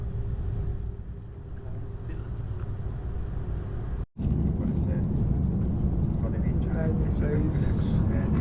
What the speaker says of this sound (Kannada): ಟೇಕ್ ಆಫ್ ಆಗ್ತಿದೆ.